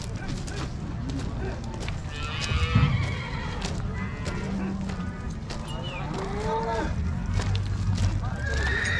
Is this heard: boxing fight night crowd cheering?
no